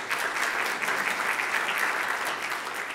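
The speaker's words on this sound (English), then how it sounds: "give him a huge round of applause" An audience at an arts leadership breakfast applauds, giving a steady, dense wash of clapping that holds throughout with no voices standing out.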